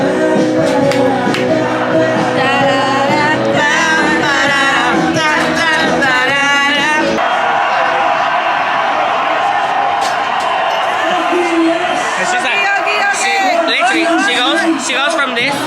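Crowd chatter in a bar: a loud, steady hubbub of overlapping voices with music running through it, plus occasional shouts and whoops, and nearby people talking over it.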